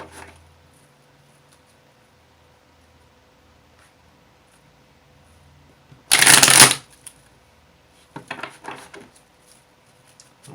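Tarot cards are shuffled close up in a quiet room: one dense, loud riffling burst lasting under a second, followed a bit later by softer, scattered card flicks and taps.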